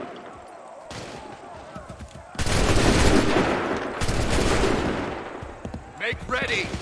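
A musket volley in the video game Assassin's Creed III comes as a loud, ragged burst of several near-simultaneous shots, followed by a second crackling wave, with shouted commands around it.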